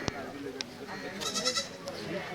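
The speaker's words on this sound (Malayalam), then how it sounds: "അത് പിടിമ്പലിയാണ് ആട്. എന്താ കയറ് പിടിച്ച് വലിച്ചെടുക്കുന്നു." Goat bleats at a busy wholesale goat market in Kerala, a few short cries rising over steady crowd chatter and bargaining voices nearby.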